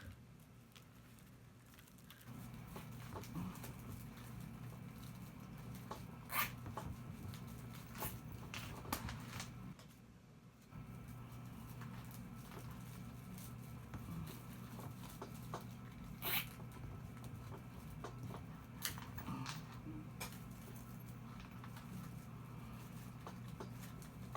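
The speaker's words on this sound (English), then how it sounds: "Just zip right through with our zip ties." Plastic zip ties are ratcheted tight around a wire wreath board while crafting a turkey wreath, repeated sharp zipping clicks and rustles of material, close and fairly quiet, with no talk.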